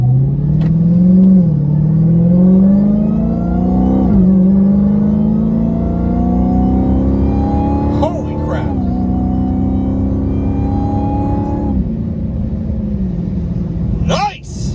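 A Dodge Hellcat Charger fitted with a Borla ATAK exhaust accelerates from a green light in traffic, its loud engine rising in pitch through gear pulls with a deep rumble, shifts and supercharger whine, while people talk over it.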